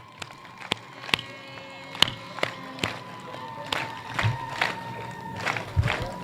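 Scattered, uneven handclaps from a small crowd at a project launch in Isiolo County, Kenya, sharp single claps spaced out over a quiet background rather than a full burst of applause.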